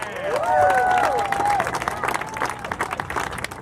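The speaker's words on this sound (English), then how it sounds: "Give him a big round of applause." Outdoor rally crowd at Santa Monica Pier applauding a state senator, with whistles and cheers rising over the clapping early on, then the applause thins and fades toward the end.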